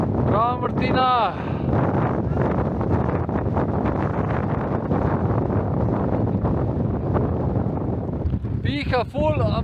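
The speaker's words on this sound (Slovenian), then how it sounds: "Piha ful" Strong wind gusting across a winter mountain summit, Mala Mojstrovka, roaring steadily and loudly against the microphone throughout, with someone speaking briefly near the start and again near the end.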